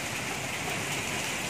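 Heavy early-morning rain pours down in Una during a storm, a dense constant roar of water on surfaces, loud and unbroken through the short stretch, with no thunderclap standing out.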